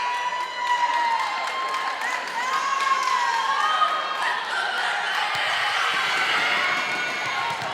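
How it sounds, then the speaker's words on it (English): A crowd cheering at a high school girls volleyball game on senior night, a sustained roar of voices and shouts in a gym, loud and continuous. "Crowd pumping him up on senior night."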